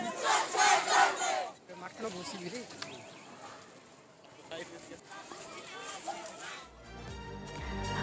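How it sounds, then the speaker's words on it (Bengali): Protest marchers chanting slogans while walking from Manikganj market toward Satkura in Jalpaiguri, a loud crowd of voices at first, then fading to a murmur of mixed talk and movement before a closer burst of noise. "জলপাইগুড়ি মানিকগঞ্জ বাজার থেকে সাতকুড়া প্রায় 7 কিলোমিটার হাঁটলেন তারা, মুখে প্রতিবাদের স্লোগান।"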